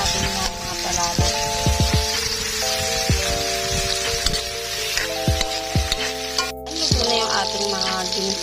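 Ginger and other aromatics sauté in a pan for tilapia sinigang sa miso, a soft continuous sizzle with occasional stirring knocks, partly masked by melodic background music.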